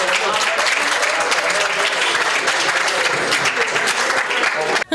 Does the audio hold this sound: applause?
yes